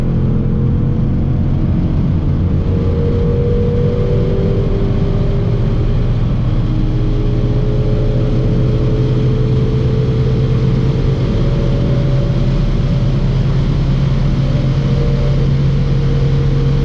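A supercharged 5.2 L V8 in a 2021 Shelby GT500 accelerates hard, giving a loud, continuous engine drone with slowly climbing pitch and heavy road and wind roar heard from inside the car.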